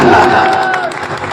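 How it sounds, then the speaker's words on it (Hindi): Audience applause and cheering for poet Najmi Hasan at a mushaira poetry gathering, a loud continuous crowd wash with whoops, brief, with some voices mixed in. "एक बार तालियां हो जाए नजमी हसन"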